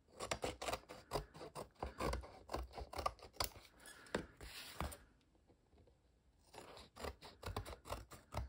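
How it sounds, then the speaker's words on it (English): Scissors snipping the edges of a paper collage made with printed papers, gold leaf and metallic pigments; rapid close repeated cuts, a brief pause, then more snipping. "I think it is dry now, so I will cut the edges clean"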